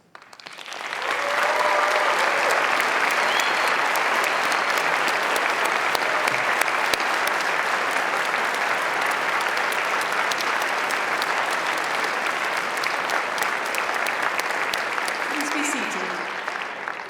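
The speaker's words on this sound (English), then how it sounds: "giving them a warm and enthusiastic round of applause" Sustained, dense applause from a large audience at a Cardiff University graduation ceremony, steady and even throughout before tapering slightly at the end.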